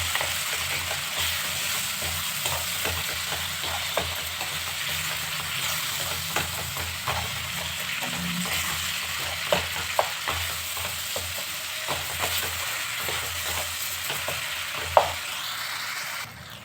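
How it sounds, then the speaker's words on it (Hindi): Masala with tomato and salt frying in oil for a chana and cabbage curry, a continuous close sizzle with frequent spoon scrapes and stirring knocks throughout, one sharper clack near the end, no talking. "मसाला के अच्छा से अब फ्राई कर लिया है"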